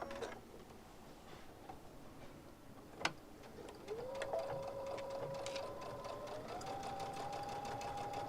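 A domestic sewing machine runs steadily, stitching a narrow eighth-inch seam, its motor humming with a rapid mechanical rattle, after a sharp click near the start; faint background noise and no talk.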